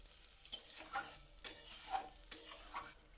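A spoon scraping and stirring masala moistened with a little water in a pan, in three soft bursts of scraping with faint sizzling between them, fairly quiet and with no voices.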